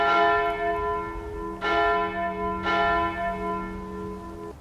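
A large church-style bell in a Skyrim video game mod tolls three times, loud and near, each strike ringing out with a long sustained hum that overlaps the next, with no voices.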